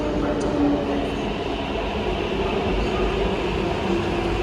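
Hyderabad metro train arriving at Miyapur station, a steady loud rumble of wheels and motors with faint station noise and voices underneath, continuous throughout.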